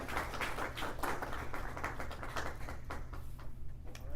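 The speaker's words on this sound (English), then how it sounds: "Would you join me in a hearty round of applause for our panelists?" A seated audience at an evening anthropology panel discussion in Fairfax, Virginia, applauds the panelists: steady, dense clapping that fills the room at a moderate level and holds evenly throughout without a break.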